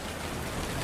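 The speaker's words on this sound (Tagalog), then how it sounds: "Ba naman tong ulan na to?" Steady rain falling near a waiting shed, a dense, even hiss of drops on surfaces that continues unbroken, close and fairly loud with no voices.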